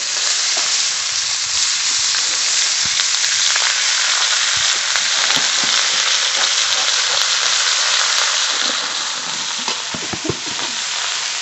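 Kalmi greens fry in oil with whole garlic and chilli, a loud, close, steady sizzle with stirring scrapes and knocks scattered throughout, no talking.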